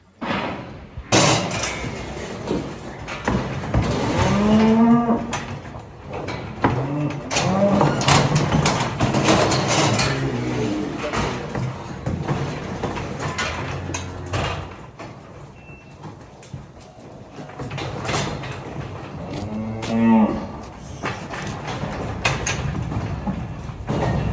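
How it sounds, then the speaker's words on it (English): A small batch of plump Angus cattle being sorted on a farm moo several times amid metallic clanks and slams, with people talking nearby. "We're just picking out 2 of the wee kind of plump Anguses."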